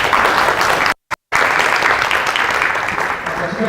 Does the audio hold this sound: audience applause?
yes